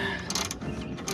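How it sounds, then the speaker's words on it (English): A tight half-inch bolt on a roof rack being loosened with a ratchet, giving a short burst of mechanical clicking and creaking, close and alone. "going to loosen this first bolt. These are half inch and they are on here tight."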